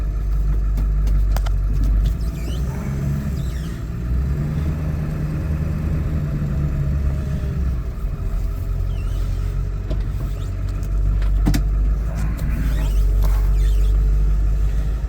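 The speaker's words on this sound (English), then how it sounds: "I'm gonna turn around and put it in reverse again." Car turning around and reversing while driven through all its gears: a close, steady low engine rumble with slight shifts in pitch and a few faint mechanical clicks.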